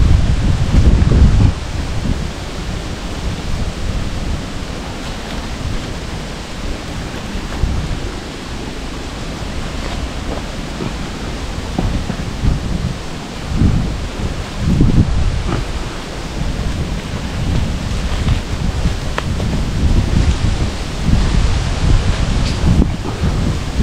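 Strong wind roars and buffets the microphone high up a slippery coconut tree during a wild honeybee nest harvest at Cù Lao Dung, a loud continuous rumble with gusty surges and no speech.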